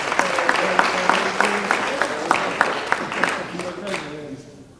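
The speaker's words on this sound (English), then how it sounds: "can you give a round of applause, please?" Audience applause at a youth community awareness event on mass incarceration, a steady scatter of sharp hand claps under a speaking voice that thins out and fades by the end.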